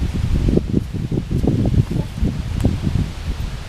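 Strong wind blowing outdoors at a campsite while a hammock is set up, producing continuous rustling of leaves with gusty, uneven surges and rumble close to the microphone, with no talking.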